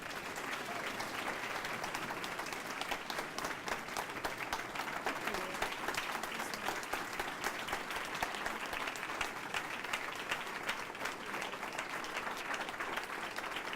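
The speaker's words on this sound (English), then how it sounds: "A round of applause." Steady, dense applause from a conference audience at a neighborhood best-practices gathering, sustained at an even level for the whole stretch with no talk over it.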